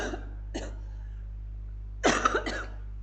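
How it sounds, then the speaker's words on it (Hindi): A person coughs indoors: a few short, dry coughs, then a tighter cluster of two or three, fairly quiet and heard alone over a low electrical hum. "कई बार खांसी आने लग जाती है ना"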